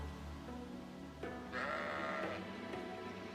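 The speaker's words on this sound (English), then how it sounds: "A sheep." A sheep bleats in the Fire Emblem Engage video game, a single wavering bleat over a steady backdrop of game music, moderately loud and close.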